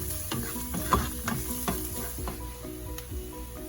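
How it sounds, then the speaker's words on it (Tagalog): Garlic and ginger toast in a hot pan for a steamed soy pompano dish, a steady close sizzle and frying crackle broken by the scrape and clatter of a utensil stirring, with no talking. "Lagay natin ang ating garlic. Then toast it."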